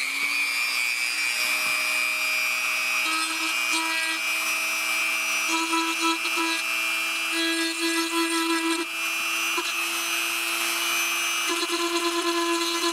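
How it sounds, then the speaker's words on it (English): A rotary tool fitted with a ball sander buzzes against a plastic action figure, a high steady electric whine with a constant tone that dips and catches briefly as the bit bites into the surface, close and continuous. "I've got my, it's a ball sander."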